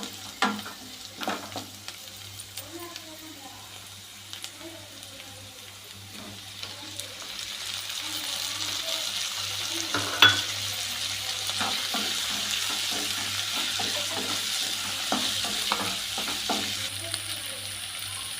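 Onions and tomatoes sautéing in a pan for a Chettinad crab gravy, a soft sizzle that grows louder and steadier partway through, with occasional clinks of the spoon and no talk.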